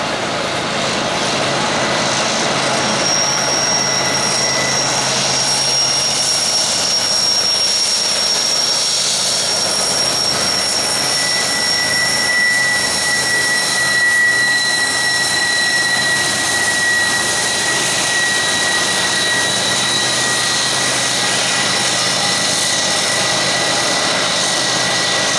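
Helper locomotives pushing a southbound timber freight train give a loud, steady engine roar that fills the whole stretch without letup, with faint high whining tones drifting through it.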